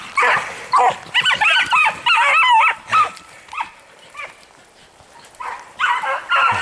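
Hounds bark and yip in excited bursts while chasing a hare outdoors, several dogs baying close by with short pauses between volleys.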